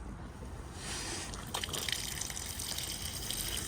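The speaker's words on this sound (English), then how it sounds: "And this will drain your freshwater tank." Water gushes steadily from the freshwater tank drain point under a 2025 Auto-Trail Expedition C71 motorhome, a continuous close hiss of running liquid that grows slightly stronger partway through.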